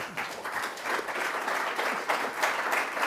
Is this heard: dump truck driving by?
no